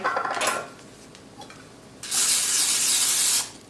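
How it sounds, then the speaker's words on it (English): Olive oil cooking spray hisses in two bursts onto a lid and the bottom of an air fryer pan, a short spray followed by a longer steady one, loud and close with no talk. "I am going to spray the lid and the bottom of this so that it doesn't stick, just with the olive oil spray"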